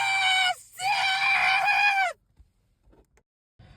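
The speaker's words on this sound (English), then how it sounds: "He screams and shoots up mid-operation." A man screams in agony as he wakes during an operation, in a horror setting. A short, loud, strained cry cuts off and is followed by a long, piercing wail that stops abruptly into near silence.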